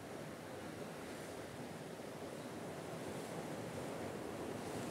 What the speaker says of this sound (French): J'espère que les vagues vont me laisser tranquille pendant 1 minute 30.